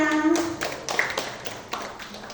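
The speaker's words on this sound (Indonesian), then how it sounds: "Beri tepuk tangan yang meriah sekali lagi." Scattered clapping from an audience at a student speech competition for National Santri Day in Balikpapan, moderate and steady, with a host's voice over it.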